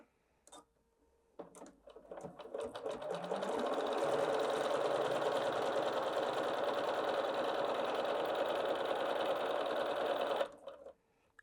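A Bernina 770 QE Plus sewing machine stitches through eight layers of fabric, starting with a few clicks, then ramping up to a loud, steady, close whir that runs for several seconds before stopping abruptly.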